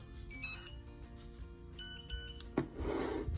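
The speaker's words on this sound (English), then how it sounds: "Till we get to 2 beeps." Several short electronic beeps from a Garmin Alpha 10 dog tracking collar entering pairing mode sound close by, including a pair of quick beeps near the middle, followed by a brief rustle.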